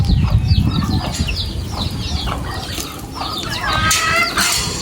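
Several laying hens cluck and chatter close by, overlapping bursts of short calls repeating throughout, with no talking.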